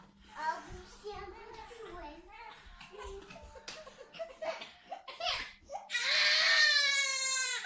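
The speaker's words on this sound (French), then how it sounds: "je vais aller prendre son petit frère parce que il pleure, le petit bébé là." A baby cries in a loud, close, high-pitched wail that rises sharply near the end, after a stretch of a young child's chatter and an adult's voice.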